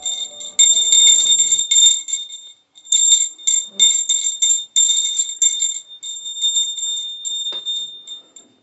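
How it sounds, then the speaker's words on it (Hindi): A small brass puja bell rings repeatedly during a home prayer, bright rapid tinkling strokes in bursts with brief pauses, close and clear, with no talking. "अच्छा तो घंटी बजा दो"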